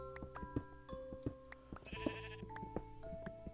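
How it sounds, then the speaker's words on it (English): Sheep bleating in the video game Minecraft, several short repeated bleats spread across the clip over a steady layer of in-game ambient tones. "I hear a sheep."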